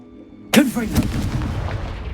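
A Confringo fire spell is cast in the Hogwarts Legacy video game, a sudden loud blast after a short quiet lead-in, followed by a crackling, rumbling decay.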